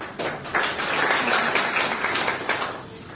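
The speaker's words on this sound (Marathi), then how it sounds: "त्यासाठी जोरदार टाळ्या झाल्या पाहिजे" Applause from the crowd at a taluka-level convention and awareness rally in Sindkhed Raja, Buldhana, with dense clapping that swells quickly and sustains before easing slightly.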